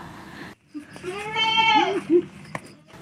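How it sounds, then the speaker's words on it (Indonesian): A one-eyed baby goat on Pulau Wali Mandar, West Sulawesi, bleats close and clear, one long wavering cry followed by a shorter one. "kambing peliharaannya melahirkan anak kambing yang memiliki mata 1"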